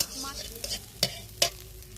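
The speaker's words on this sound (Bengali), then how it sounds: "এই উচ্ছেটা আর একটুখানি ভাজলেই ভাজাটা আমার হয়ে যাবে" Bitter gourd frying in a home kitchen pan, giving a steady low sizzle with a few sharp scrapes of a stirring utensil standing out, close and fairly quiet with no talk.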